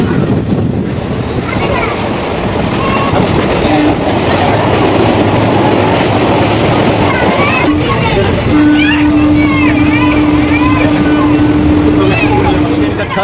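A Haridwar–Rishikesh passenger train rolls on after leaving Raiwala Junction in Uttarakhand, making a loud, steady rumble of wheels and carriages. Wind buffets the microphone throughout, and a sustained tonal hum enters partway through.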